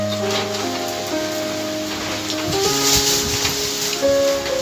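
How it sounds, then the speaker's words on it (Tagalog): Heavy rain falls during a typhoon, a steady broadband wash of drops with wind, while tonal hums and sustained lines run beneath it throughout. "Medyo malakas pa rin yung ulan."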